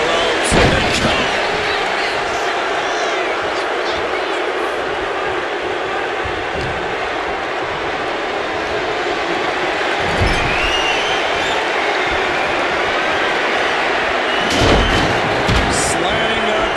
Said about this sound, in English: Slamming their opponent into place.